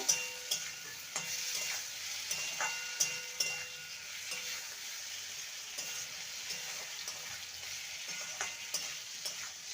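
Fried bitter gourd stirred together with softened tomato in a pan, a low steady sizzle punctuated by repeated light scrapes and taps of the spatula, close and quiet.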